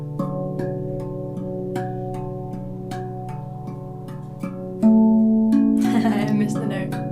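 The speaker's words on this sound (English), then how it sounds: "So if I take my other RAV Vast that I have, which is a B Rose" Rav Vast steel tongue drum in a B Rose scale plays an evenly paced pattern of struck, ringing tones, with a sharp higher strike and a short exclamation from a voice near the end.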